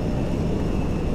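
Brief continuous roar of an airplane engine in flight in GTA V, a dense steady drone with a faint high whine, loud and constant, no talk.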